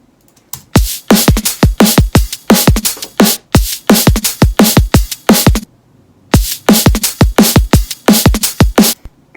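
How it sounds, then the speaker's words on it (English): Layered electronic drum beat with hi-hats, shakers and cymbals, a loud, punchy, evenly spaced pattern of sharp hits with a brief break midway. "So all together, the drums sound like this."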